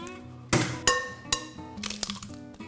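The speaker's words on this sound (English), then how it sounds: "let's go ahead and crack our eggs into our pan." Eggs cracked against a pan edge and dropped in, for keto blueberry lemon muffins: several sharp close cracks and clinks in quick succession, with small shell and pan knocks between them, no talking.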